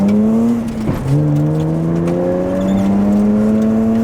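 A drift car accelerates hard, its engine note rising and then dropping briefly as it shifts into second gear before climbing again, loud and close throughout with no talking.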